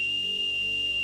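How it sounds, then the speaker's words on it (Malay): A steady, shrill high note on a bosun's pipe sounds continuously throughout, close and fairly loud, with no voices. "High note dia nyaring sikit."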